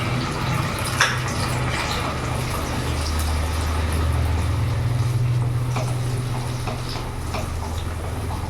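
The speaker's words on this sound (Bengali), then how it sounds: "তেল গরম হয়ে গেছে, আমি এখন পেস্টটা পুরো দিয়ে দেবো" Spice paste for shahi chicken hits hot oil in a pan and sizzles with a steady, close hiss, broken by occasional crackles and pops throughout.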